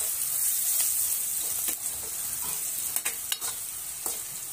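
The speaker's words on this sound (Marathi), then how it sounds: "आता हे सर्व परत एकदा परतून घेऊ।" A vegetable masala with turmeric and salt stir-fries in a hot pan, giving a continuous close sizzle broken by several sharp scraping clacks of a spatula being worked through it.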